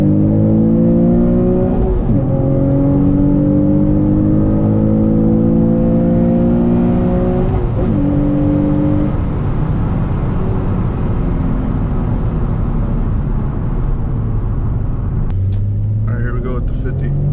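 A Nissan 350Z Nismo engine pulls hard through the gears from inside the car, with loud, continuous rising revs broken by two quick shift dips and a steady road rumble underneath.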